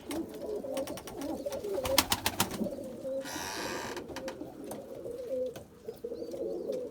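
Several white pigeons coo softly and repeatedly nearby, with low throaty calls that continue throughout against some faint background noise.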